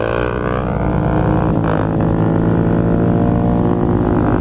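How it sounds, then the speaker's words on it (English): Suzuki DRZ dirt motorcycle riding past, a steady loud engine drone with a rising and falling pitch, continuous and close with no talking. "my boy's shredding in my DRZ"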